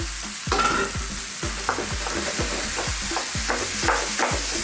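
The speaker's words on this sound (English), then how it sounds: "I'm now going in with my minced beef, which I've got here." About half a kilo of minced beef sizzles loudly with potatoes in a frying pan, stirred in a quick, rhythmic run of close scraping strokes over a constant hiss.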